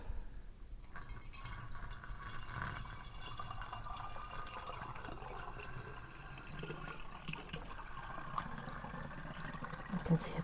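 Hibiscus kombucha, slightly carbonated, pouring from a container into a glass jar, giving a steady trickling liquid stream that runs the whole time at moderate level, with low background noise and a brief quieter start.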